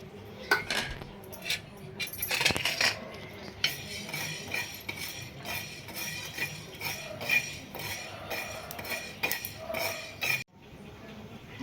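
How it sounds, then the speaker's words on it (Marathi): Pearl millet dry-roasting in a pan while making masvadi, heard as a steady rattle and scrape of grains and utensil against the metal, with repeated clinks and stirring close by and no talk. "आता आपण बाजरी भाजून घेऊ"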